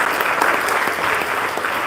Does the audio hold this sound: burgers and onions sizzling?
no